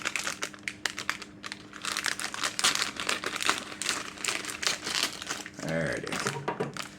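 Plastic wrapper crinkling and crackling in close, irregular bursts as it is opened on a homemade pie crust for pumpkin pie, with a voice speaking over it.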